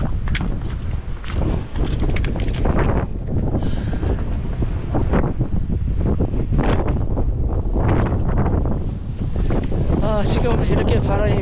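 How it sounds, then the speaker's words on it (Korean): Strong wind gusts buffet the microphone on the windswept summit of Daecheongbong in Seoraksan, a loud continuous roar with rumbling blasts throughout and no break. "지금 이렇게 바람이 불고"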